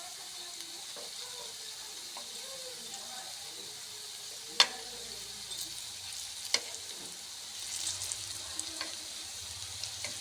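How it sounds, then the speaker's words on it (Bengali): Pakoras deep-frying in hot oil as they are turned over: a soft, steady sizzle throughout with occasional light clinks of a utensil, growing a little busier near the end. "সবগুলোকে লাল করে ভেজে নেব, উল্টো পাল্টে ভেজে নিই"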